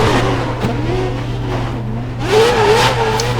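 A Formula 1 car engine in the F1 2011 racing game, entering the pit lane at Monaco after a near spin, a close, loud, steady droning motor whose pitch wavers and rises briefly as it revs.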